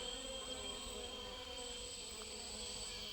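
Insects buzz and drone continuously in the Amazon rainforest of French Guiana, a dense steady chorus of whining tones and crickets, moderately loud, with no voices.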